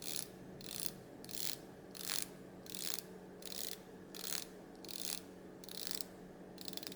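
The bezel of a Seiko 5 SNZH57 watch is turned click by click, giving a quiet, close ratcheting in about ten short bursts with steady pauses between them.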